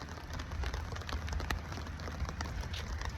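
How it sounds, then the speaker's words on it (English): Outdoor rain falling steadily, a soft continuous patter with scattered individual drops, fairly quiet and without talk. "It's raining out here."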